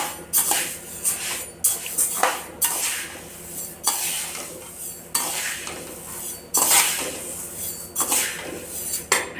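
Dry lentils and other pulses are lightly roasted in a pan while being stirred, producing repeated gritty scraping sweeps and rattling clinks of a utensil against metal in an uneven rhythm close by.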